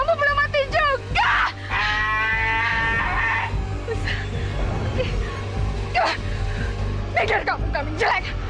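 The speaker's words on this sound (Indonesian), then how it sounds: "Itu kambing-kambing ngejar aku." Several goats bleat repeatedly at close range with wavering, quavering calls over a steady low engine-like hum, with people talking intermittently.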